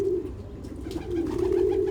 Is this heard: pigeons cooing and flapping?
yes